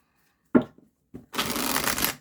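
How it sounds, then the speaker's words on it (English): A tarot card deck is riffle-shuffled on a cloth surface: a couple of soft taps, then a quick, close, fluttering burst of cards riffling for under a second. "It's such a good shuffle."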